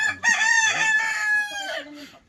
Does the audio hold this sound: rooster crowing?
yes